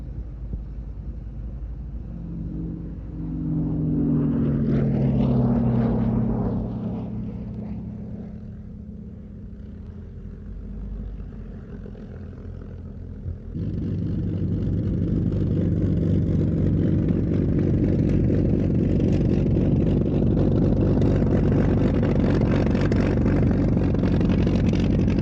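Aircraft engine at the IWM Duxford airfield during a flying day: a loud rumbling drone rises and swells, eases off, then returns as a steady, powerful roar that holds to the end.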